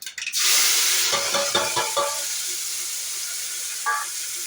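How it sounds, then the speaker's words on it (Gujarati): Grated tomatoes land in hot oil with a burst of loud sizzling that settles into a steady frying hiss, broken by a few clinks of stirring. "હવે નાખીશું ટમેટા ખમણેલા."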